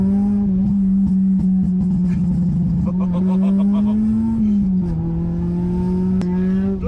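A tuned Honda Civic EP3 Type R drives on the road, its engine a loud steady in-cabin drone that climbs in pitch as it revs through gears, with people talking over the noise.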